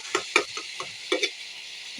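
Food frying in oil in a wok, a steady high hiss broken by several short scraping clatters of stirring over two seconds, close and alone.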